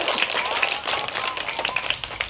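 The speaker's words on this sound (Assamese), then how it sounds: "এটা হাত চাপৰি মাৰা সকলোৱে তেখেতলৈ" Schoolchildren clap their hands together in a steady, fairly loud burst of applause welcoming a guest at a primary school event, with dense overlapping claps throughout.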